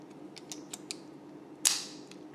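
GoPro mounting hardware for a helmet sticky mount is handled up close: a few light clicks and taps, then one sharper snap near the end, over quiet background hum.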